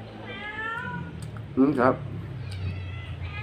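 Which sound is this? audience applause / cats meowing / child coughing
cats meowing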